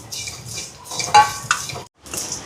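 Fennel, cumin, mustard seeds, pepper, cinnamon and cardamom dry-roast in a pan, with soft stirring scrapes and light metallic clinks of a utensil, close and brief, broken by a short pause.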